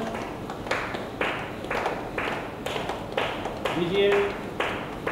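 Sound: audience clapping

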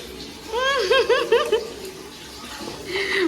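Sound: water poured from a mug while bathing a child

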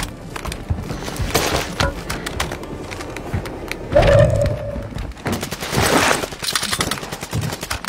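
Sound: gunfire in a video game shooter

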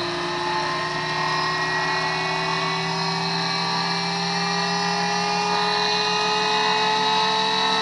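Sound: pulse motor rotor spinning at speed

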